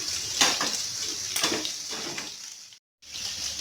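Fish roe being stirred gently in a frying pan, with a few soft scraping clinks of a utensil against the pan over a steady background hiss, then a brief silent gap before the hiss resumes.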